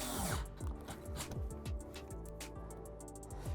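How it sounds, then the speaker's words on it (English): An electric drill with preset torque drives a screw into a U-nut while a composite front splitter goes onto a C8 Corvette, sounding as short repeated whirring bursts that bog down as the fastener tightens. "I'm using an electric drill with a preset torque"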